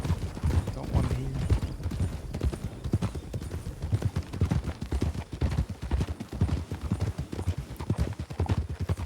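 A horse carries a rider and a woman seated behind him, its hooves clip-clopping in a steady, close, unbroken rhythm for the whole stretch without any voices.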